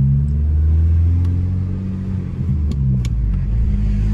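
An Audi B5 A4 Avant drives past close by with a loud, steady low engine rumble and road roar, a few faint squeaks over it, and no talking.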